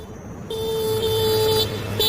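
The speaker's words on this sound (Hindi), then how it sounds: "बंद करो ये हॉर्न।" Car horn honking at night: a single loud, sustained blare that starts abruptly and holds steady for over a second, with a brief second toot at the end.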